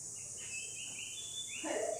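Birds chirp in thin, high calls scattered over a steady background hiss, fairly faint and with no one talking, near a small village temple in Konkan in May.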